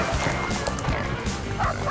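Hunting dogs bark repeatedly through a pig hunt in the New Zealand bush, a busy run of overlapping barks and yips with some voices mixed in.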